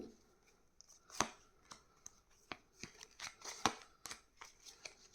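Tarot cards being shuffled and drawn, a string of crisp papery slaps and flicks in irregular bursts, close and fairly quiet with no talking.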